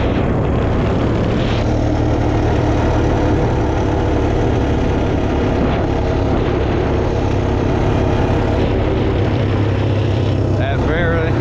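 A Honda TRX250TE Recon ATV engine runs at very low throttle, a loud, continuous mid-low drone throughout, with someone speaking over it.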